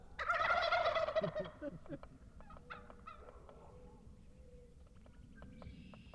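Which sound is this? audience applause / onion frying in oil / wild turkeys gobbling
wild turkeys gobbling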